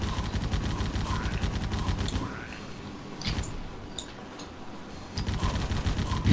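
Rapid automatic gunfire in the Bunch of Heroes video game, shooting at a horde of zombies: dense bursts that ease off mid-way, then come back strongly.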